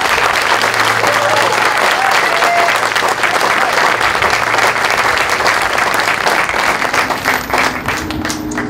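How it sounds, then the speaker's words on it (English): Loud, dense audience applause at a cardiology clinic grand opening press conference, continuous clapping from a crowd that carries on for several seconds before gradually thinning out. "a round of applause."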